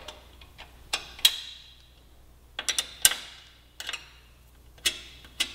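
A wrench loosening the rear axle nuts on a 2018 Suzuki GSX-R1000 sportbike during a chain adjustment, giving a series of sharp metallic clicks and ratchet ticks in irregular clusters, close and alone.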